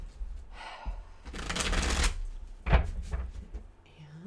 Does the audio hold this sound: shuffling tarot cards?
yes